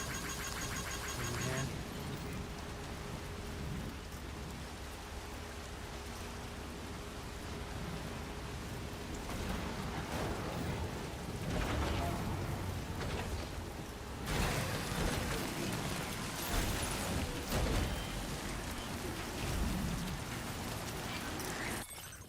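Timefall rain in the video game Death Stranding 2, a dense steady hiss of downpour filling the scene, with shifting gusts and some brief tonal sounds under it and no clear thunder.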